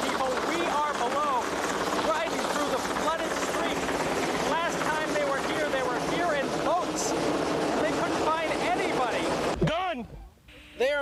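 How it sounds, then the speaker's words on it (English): A police helicopter circles overhead above flooded homes after Hurricane Katrina, its steady rotor drone continuous and fairly loud under an overlapping reporter's voice and other talk, cutting out near the end. "You see the chopper is above looking for people."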